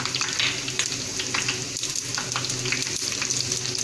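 Garlic, whole red chilies and cumin seeds frying in oil for shahi dal, a dense continuous crackle and sizzle close by with a stirring clatter; no talking.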